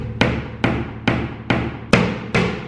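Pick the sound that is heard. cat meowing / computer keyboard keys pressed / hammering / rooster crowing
hammering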